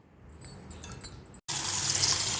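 Water is poured into a pot to soak rice, starting with light clinks and trickles, then a brief pause followed by a steady, loud gushing pour that continues to the end.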